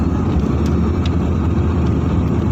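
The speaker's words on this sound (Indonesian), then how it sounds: "Kita masih menggunakan persneling 3. Kita menambah pos kecepatan ke persneling 4." A car climbing through sharp bends on a hilly road in third gear before shifting to fourth, a loud continuous engine drone with steady road noise from inside the cabin.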